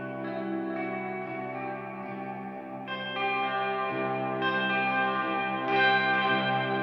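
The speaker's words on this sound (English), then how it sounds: "They got real shimmery and jangly there with that reverb" A sustained guitar chord drenched in reverb and chorus, shimmering and jangly, swelling brighter as new chords ring in over a slightly gritty tone.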